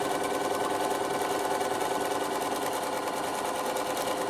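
A Bernina sewing machine runs continuously while stitching patchwork, a steady, close, even mechanical hum with no pauses and no talk.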